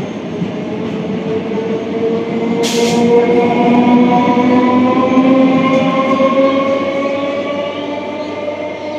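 A 12-car Ranaghat–Sealdah local train rolls into platform 2 at Khardaha station with a loud, steady rumble and screeching wheels, a brief hiss of air brakes midway.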